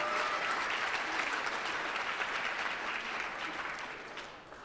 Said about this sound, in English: Let's throw Paul a round of applause, please, for all of his help.